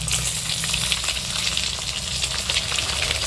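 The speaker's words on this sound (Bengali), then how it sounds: "ডিমগুলো ভেজে নেব।" Eggs seasoned with salt and turmeric fry in hot oil in a wok, giving a loud, steady sizzle with crackling spatter that runs continuously and alone throughout.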